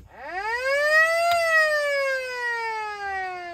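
A single siren wail rises quickly, then slowly falls in pitch, loud and close, with no voices.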